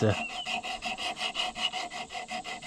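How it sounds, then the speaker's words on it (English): Sanding around the edges of a part from a 1936 John Deere A tractor: a steady rasping rub in quick back-and-forth strokes, about four per second, close and fairly loud, with no talking. "we should probably just sand around these edges"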